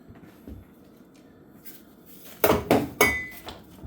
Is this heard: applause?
no